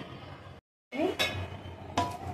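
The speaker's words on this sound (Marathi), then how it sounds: "ढवळून घेऊया." A spoon stirs chickpeas in a pot with oil, making clanks and scrapes of metal on metal up close, broken by a brief silence before more rattling knocks.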